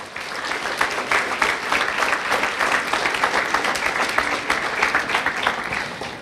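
Loud, sustained applause from a crowd at a high school commencement ceremony, honoring a student, with many hands clapping in a dense, steady wash that continues throughout.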